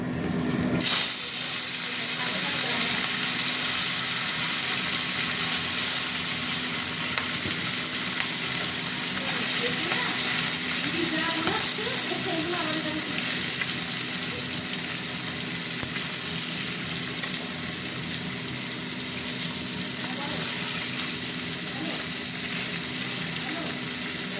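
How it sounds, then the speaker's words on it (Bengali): Amudi fish frying in oil for a spicy potato-and-tomato curry: a loud, steady sizzle that runs unbroken and close throughout, with no talking. "হতে থাক মাছ ভাজাটা।"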